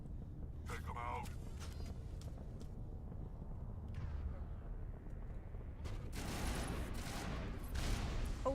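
Rocket launcher explosions in a video game battle, heavy booming blasts and crackling bursts rising near the end, with a quieter rumble of combat underneath and distant game voices.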